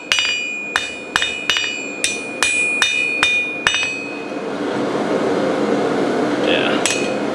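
A hammer strikes hot metal on a blacksmith's anvil about ten times, each blow a sharp, ringing clang in a steady rhythm. A roaring forge or blower hum follows and continues after the blows stop.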